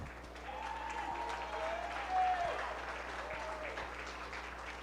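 A crowd applauds contestants at a county fair Farm Bureau ambassador contest, steady clapping throughout at moderate distance, with a brief whistle-like tone and a low hum from the venue underneath.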